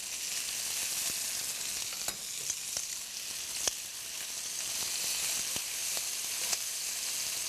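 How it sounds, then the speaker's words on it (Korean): Chicken legs searing in a pan until golden on both sides, with a steady, moderately quiet sizzle and a few faint crackles and pops scattered through it, and no one talking. "이제 양면의 부위가 노릇노릇하게 구워주면"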